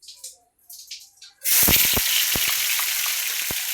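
Oil sizzling and frying in a hot pan while rice bhakri and curry are made, a steady bright hiss that starts abruptly after quiet moments and carries on with small crackles.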